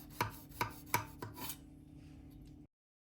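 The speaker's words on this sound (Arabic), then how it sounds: "هنبدأ طبعا نقطعها شرايح كده تكون" A knife cuts a baked anise and mahlab biscuit loaf into thin slices, four crisp crunchy strokes in quick succession followed by a short scraping rasp, close and fairly quiet.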